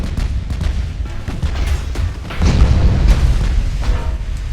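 Naval secondary battery guns firing in the video game Ultimate Admiral: Dreadnoughts, a steady rumble of booming shots that swells louder partway through, with no talking.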